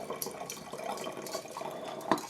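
Homemade apple cider drips and trickles softly as it is poured, with faint irregular splashes and one slightly louder drop near the end, quiet and close.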